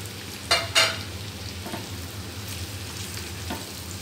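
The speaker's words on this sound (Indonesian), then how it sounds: "Tumis lagi sampai wangi bawangnya." Ginger, galangal, lemongrass and bay leaves sautéing in a pan for nasi liwet teri Medan, a soft steady sizzle broken by a few sharp stirring scrapes near the start and later.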